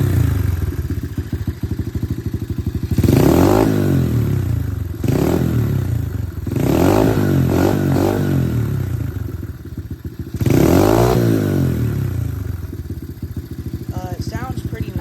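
SSR 110 pit bike with a new aftermarket exhaust, its single-cylinder engine idling with a steady rapid thrum and blipped several times into short, loud revs that fall back to idle.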